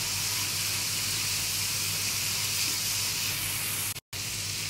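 Spices with ginger and garlic frying in hot oil for a masoor lentil dish, a steady loud sizzling hiss throughout with a brief drop near the end.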